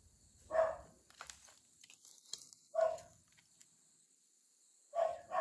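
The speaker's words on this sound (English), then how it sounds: "Oh, there's Sunny barking." A dog barks three times, single sharp barks spaced a couple of seconds apart, moderately distant in an otherwise quiet setting.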